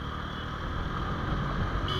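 A TVS Apache RTR 200 4V motorcycle engine running steadily, a close, continuous low-pitched drone with wind rush and no voices.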